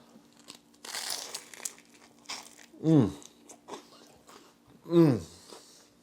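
Bites into a crunchy steak crostini topped with roasted red pepper and horseradish cream give crisp crackling crunches, with close chewing and two louder voiced sounds of appreciation in between.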